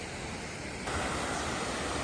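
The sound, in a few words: waterfall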